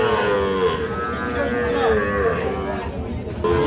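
Cattle at a crowded livestock market moo repeatedly over a constant hubbub of people, with several drawn-out calls near and far.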